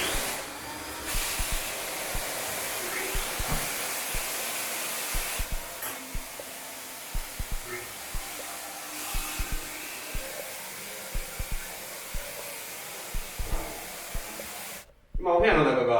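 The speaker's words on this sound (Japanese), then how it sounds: "マイクロジェットで、薬剤を噴射する機械です。" A micro-jet machine sprays chemical agent as an ultra-fine mist inside a room during biohazard cleaning, giving a steady, loud hiss. It runs continuously for about fifteen seconds and then stops abruptly, with scattered knocks and handling sounds beneath it.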